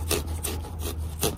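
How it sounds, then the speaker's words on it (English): A pumpkin carving drill cutting into a pumpkin makes four rough, rasping bursts with short gaps, close and fairly loud over a steady low hum. "Now this is the pumpkin drill."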